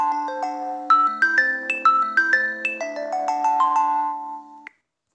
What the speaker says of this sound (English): We can go ahead and listen to that ringtone by clicking the play button